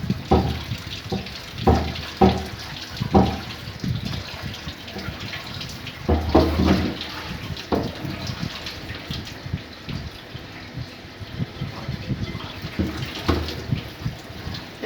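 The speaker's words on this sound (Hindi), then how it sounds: "अब मैं कढ़ाई को धो लूँगी" Tap water running into a kitchen sink while a kadhai (wok) is washed, a steady gushing stream broken by scraping and clanking of the metal pan, close and loud with no talk.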